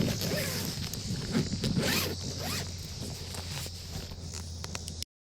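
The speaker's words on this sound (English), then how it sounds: "Put the fries in the bag and then close the bag." A zipper closes a food delivery bag in a series of quick, close rasping pulls, with light rustling and handling noise around it before the sound cuts off abruptly.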